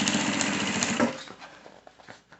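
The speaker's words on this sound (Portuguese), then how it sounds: "A costura já vai ficando aberta para que eu venha com esse pesponto que eu tô fazendo aqui." A sewing machine topstitches a box-style toiletry bag, running in a fast continuous buzz for about a second before slowing into a few separate stitches and stopping.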